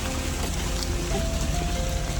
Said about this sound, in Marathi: आणि कंटिन्यू पाऊस पडतोय